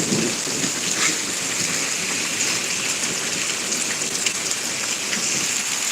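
Heavy thunderstorm rain pours steadily onto surfaces in Pittsburg, Kansas, a dense continuous hiss with low rumbling thunder beneath, constant and close with no voices.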